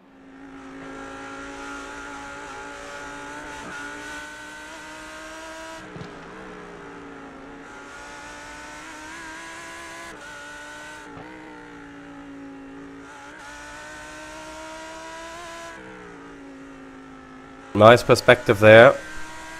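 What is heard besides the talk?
Lamborghini race car engine in a racing video game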